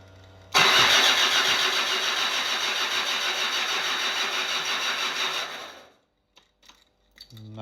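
Land Rover engine cranking on a first start attempt after priming the fuel pump, with a suspected crank sensor fault: a loud, steady starter churn runs for about five seconds without catching, then cuts off abruptly into near silence and small workshop clatter.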